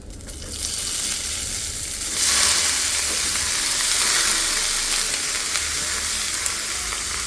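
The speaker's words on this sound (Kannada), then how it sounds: "ಬನ್ನಿ ಇವಾಗ ಬೀಟ್ರೋಟ್ ಹಾಕ್ಕೊಳ್ಳೋಣ" Beetroot tipped into a hot pan already holding fried dried red chillies and garam masala, setting off a loud, steady close sizzle that swells after a couple of seconds and continues without pause or talk.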